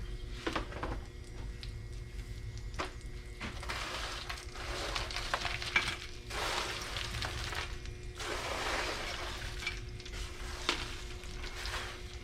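Dried breadcrumbs toasting in olive oil and butter in a pan. A soft, steady sizzle runs throughout, with bursts of scraping and rustling as the crumbs are stirred and tossed.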